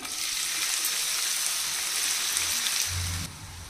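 Onions and spices frying in a cup of hot oil, a loud, steady, dense sizzle that runs continuously and then drops off slightly near the end.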